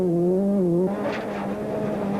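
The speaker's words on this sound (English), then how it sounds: "It's rather noisy in a rally car at full flight." A rally car engine at full speed on a forest stage roars loud and close from inside the cabin, a steady droning note holding high revs then shifting lower after a quick gear change, with no voices.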